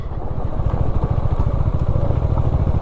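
A motorcycle engine rumbles close by with a steady, throbbing low pulse. It is one of a group of bikes that includes a KTM 390 Adventure, riding a dirt mountain road.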